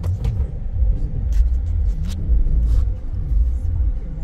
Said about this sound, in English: I know the check engine light is on, but the car itself sounds nice.